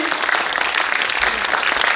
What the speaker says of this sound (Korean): 다 같이 화이팅 하면은 박수 부탁드리겠습니다